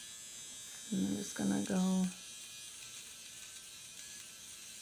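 An electric face shaving tool buzzes steadily throughout, gliding along the jawline, while someone speaks briefly over the constant low whir.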